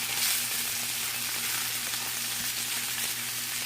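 Filet mignon frying in butter in a hot pan, a dense continuous sizzle with a faint steady hum beneath, close and without any voices.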